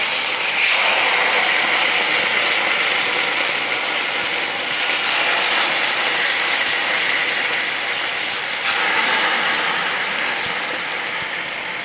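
Marinated salmon searing flesh side down in a hot oiled sauté pan, giving a loud, dense, continuous sizzle that holds steady and close throughout without talk.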